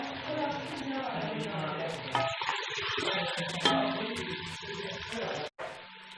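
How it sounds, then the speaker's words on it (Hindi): Spiced masala for Lahori beef paya sizzles and fries in a pot with splashes of water, a steady close crackle with stirring noises under a voice talking. "मसाला भूनते हुए थोड़ा थोड़ा पानी 3-4 दफ़ा लगाकर इसे अच्छी तरह भूनें"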